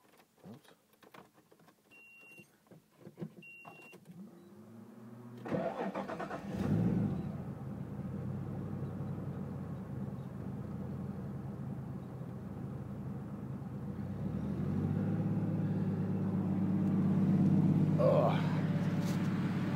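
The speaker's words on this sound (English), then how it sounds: "this is the very first start after putting that on." Nissan RB30 engine with a Holset HY35 turbo cranks over and fires for its first start, then settles into a steady, loud idle that swells slightly toward the end, with some clicks and movement before it catches.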